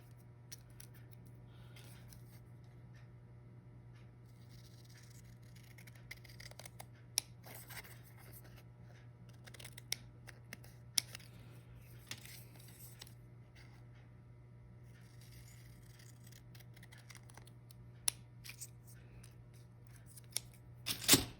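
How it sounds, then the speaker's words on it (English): Scissors loosely cutting a design out of a decoupage napkin for a greeting card, producing quiet scattered snips and paper rustles over a steady low electrical hum, close up with no speech. "So I'm going to loosely cut that out first, get this out of the way, and then I cut it out a little bit"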